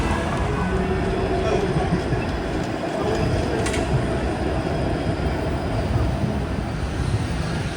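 A TTC streetcar on the Dundas Street line at Yonge and Dundas in Toronto rolls past as a loud, steady low rumble amid busy street noise, with a brief metallic squeal partway through.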